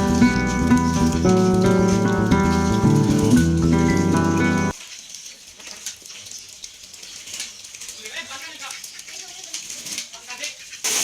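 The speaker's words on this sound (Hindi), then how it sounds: "ये ऊपर से छत का पानी आ रहा है" Steady patter of rainwater pouring off a roof and splashing, with a loud mixed burst at first, then a continuous wash of falling water alone.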